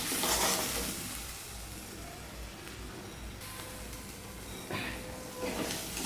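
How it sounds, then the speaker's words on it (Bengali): Spice paste of ground coriander, cumin and salt frying in a pan for a prawn mustard curry, a steady close sizzle with brief louder bursts of stirring and scraping, no voices. "এবার মশলাটাকে আমি ভালো করে কষিয়ে নেব"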